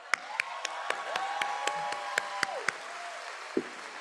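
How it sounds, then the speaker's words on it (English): Scattered applause at a university counseling department graduation, a soft bed of distant clapping with a few sharp, distinct nearby claps and a sustained voice-like tone running beneath. "Big round of applause."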